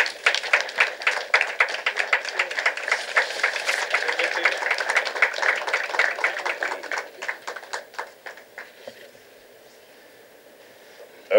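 A conference-hall audience applauds at an honorary tribute, with dense, steady clapping that thins out toward the end before the room falls quiet.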